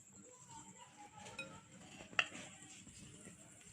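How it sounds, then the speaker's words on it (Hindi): Chicken and potato nugget mixture being mixed in a bowl, giving faint soft scraping and low dull clatter, with one sharp clink of utensil against the bowl partway through. "अब हम इसे बहुत अच्छी तरह मिक्स कर लेंगे"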